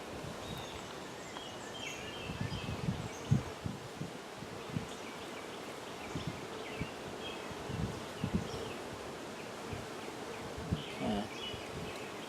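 Honeybees buzz around an open hive during a spring hive check, a dense continuous drone with individual bees passing close in louder swells, outdoors with faint rustling and no talk.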